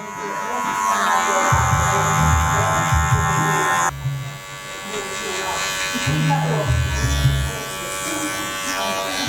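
Electric hair clippers buzz steadily while cutting a short fade, loud and close, the tone shifting as the blade moves through the hair and pauses briefly.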